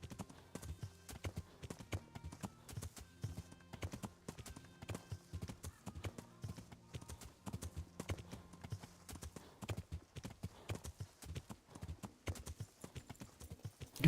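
A horse gallops in a video game with fast, rhythmic clip-clopping hooves that run steadily throughout, faint and close with no talking over them.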